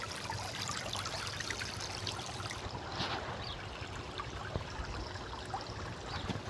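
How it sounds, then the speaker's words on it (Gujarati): Irrigation water runs steadily through a farm field, a continuous broadband trickle and gush close by with no pauses and no voices. "જોઈ શકો છો, પાણી ચાલુ થઈ ગયું છે."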